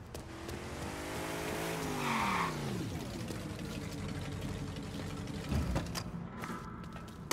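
A car engine warms up in the video game Mafia III, a steady close rumble with a rising and then falling rev and some tire squeal and mechanical creaks.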